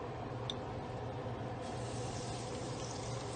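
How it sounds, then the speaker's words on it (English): Floured ribs coated in self-rising flour bubble in a deep fryer, giving a steady, dense hiss and crackle of hot oil that runs evenly throughout, close and moderately loud. "We're gonna drop them in a deep fryer now"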